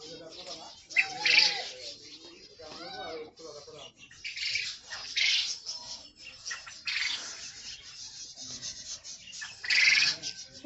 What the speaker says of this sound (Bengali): এগুলো হচ্ছে কোয়েল পাখি অনেকগুলো কোয়েল পাখি এই পাশটাতে